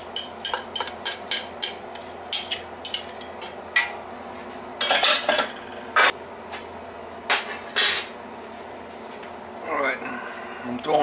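Minced garlic and crushed red pepper go into a pot of working man's chili, heard as a run of sharp metallic clinks and scrapes of utensil on cookware, quick taps early then scattered louder knocks, close and moderately loud.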